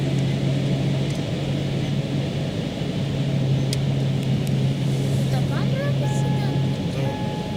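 A Ford Galaxy Mk3 with a 2.0 TDCi diesel engine runs on a dynamometer, giving a loud, steady droning hum throughout, with people talking over it.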